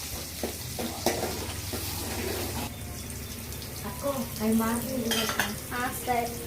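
Onions and green chillies fry in a pan and get stirred, with continuous sizzling, metal spoon scrapes and pan clatter close up. Faint background voices come and go.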